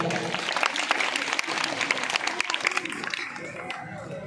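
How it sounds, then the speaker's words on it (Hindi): Audience applause erupts for a student at a comic stage drama about a teacher and pupil, dense clapping from a nearby crowd that holds steady and then thins slightly toward the end, with a voice briefly audible over it. "इसके लिए तालियां होनी चाहिए पहले"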